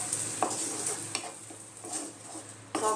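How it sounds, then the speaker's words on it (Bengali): Masala cooked with sour yogurt in a pan for a restaurant-style bhindi do pyaza gets stirred with a utensil, with soft repeated scraping strokes and a few clinks against the pan over a quiet, continuous sizzle. "টক দইয়ের সাথে মশলাটা আমি আরও 2 মিনিট কষিয়ে নেব।"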